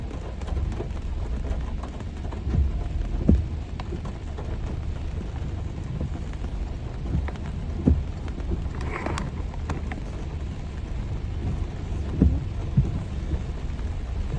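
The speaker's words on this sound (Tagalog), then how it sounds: "ang lakas ng ulan" Rain pours steadily in a dense hiss, with occasional low rumbles and louder drips cutting through.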